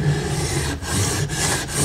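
A Mora bushcraft knife with a Scandi bevel is pushed firmly across a waterstone in close, rhythmic rasping strokes, about two per second.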